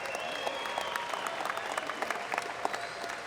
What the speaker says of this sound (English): let's give both of our fighters a big round of applause